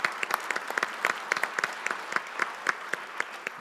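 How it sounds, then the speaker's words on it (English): Audience applause at a university community symposium on opioid interventions, a thin, fairly quiet patter of individual claps with distinct sharp hits throughout, no voices over it. "not only Tracy Plouck, who deserves a special round of applause"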